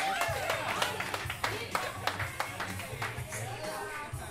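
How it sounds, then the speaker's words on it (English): Wedding guests clap and applaud for the wedding party at a reception in Key West, a stream of scattered handclaps from a crowd, with voices talking over it. "big round of applause for your wedding party"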